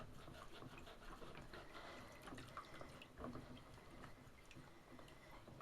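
Bleach water splashes and runs in a sink while the fins of a machine are cleaned by hand. The steady, faint wash of water has small splashes and drips, with no talk over it.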